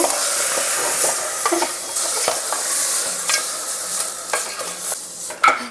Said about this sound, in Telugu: ఆయిల్ హీట్ అయ్యాక మనం కడిగి పెట్టుకున్న మటన్ని వేసేసుకోవాలండి ఒకసారి కలుపుకోవాలన్నమాట